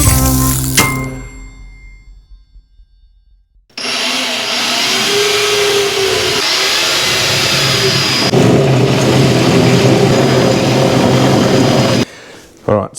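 A power drill bores holes in a Classic Mini's bodywork to fit rivet nuts and bolts for mounting a battery isolator, with a steady, loud whirring grind held for about eight seconds after a quiet start.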